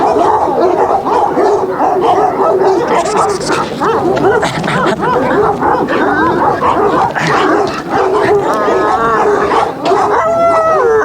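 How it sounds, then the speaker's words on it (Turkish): Two dogs bark, yip and howl outdoors near a tree, loud and close, with overlapping excited calls that continue throughout. "Orada iki tane köpek duruyor."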